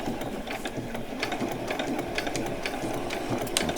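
A sewing machine stitching a small dog lead for a doll, running continuously at a fast, even rattling pace, close and loud with no talk.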